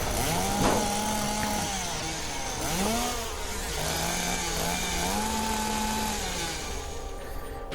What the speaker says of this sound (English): Kurokawa jumped out of the way of the chainsaw slash.